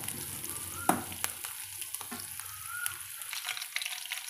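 Shallots and garlic sautéing in a pan after mustard seeds have spluttered, giving a steady close frying sizzle with a few sharp crackles and stirring scrapes throughout.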